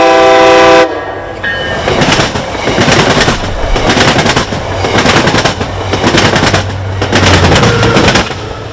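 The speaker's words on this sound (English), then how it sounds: "So now that the train went by" A train passes close by Abington's historic depot: a loud horn blast cuts off, then heavy wheels clatter and rumble over the rails in rhythmic surges for several seconds.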